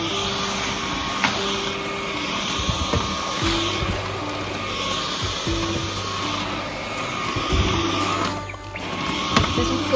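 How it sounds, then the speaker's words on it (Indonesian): A corded vacuum cleaner runs steadily, a loud continuous motor whine with a shifting hum as it moves over a room floor, broken by brief bumps and knocks and a short dip near the end. "Saya suka vacuum ni sebab dia guna tali."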